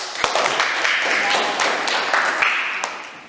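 Children in a classroom clapping for a group during a lesson, a busy patter of many small hands mixed with chatter and voices throughout.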